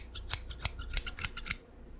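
Barber scissors snip through hair close up, a quick run of about eight crisp metallic cuts that stops abruptly, no talking.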